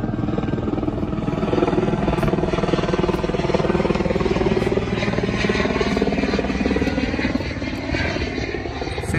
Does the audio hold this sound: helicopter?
yes